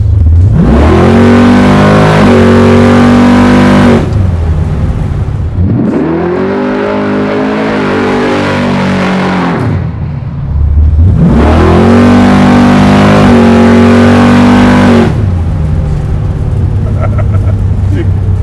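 A 700hp naturally aspirated big block engine in an old-school Camaro revs hard in three long, loud surges with brief drops between them, deep and close.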